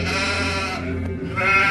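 Sheep and goats bleat in a sustained, wavering cry that is loud and near, with one bleat running into another.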